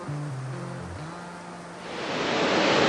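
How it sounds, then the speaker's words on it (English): River water flowing at a crossing on the Creeper Trail near Damascus, Virginia: a broad rushing wash that starts soft behind a low hum and swells to a loud, steady rush in the final second. "So I'm on one of the many river crossings"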